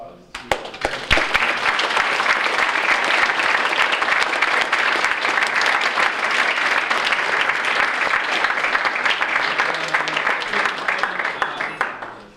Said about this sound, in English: I think a round of applause to